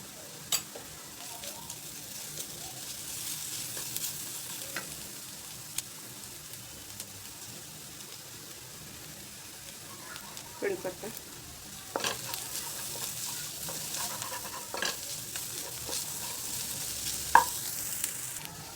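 Chopped onion sautés in a pan with ginger-garlic paste for a home-style vegetable dish, giving a quiet, steady sizzle broken by occasional scrapes and clicks of stirring.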